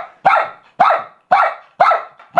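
An old dachshund barks close and loud, five sharp evenly spaced barks about half a second apart, with no talking over them.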